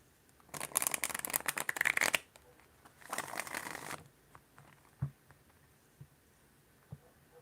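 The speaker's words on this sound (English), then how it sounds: "before I even started shuffling" A deck of cards is shuffled by hand: two close, crisp riffling bursts of about one and a half seconds and one second, followed by a few soft taps and clicks as the cards are squared up.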